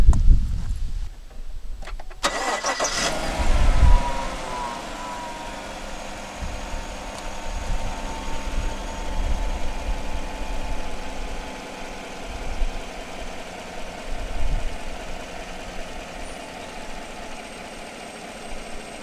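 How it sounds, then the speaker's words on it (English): A car engine cranks briefly and starts during a 12V battery test with a TOPDON AB101 analyzer, then settles into a steady, moderately loud idle that carries on alone for most of the stretch. "it's telling me to start the engine here."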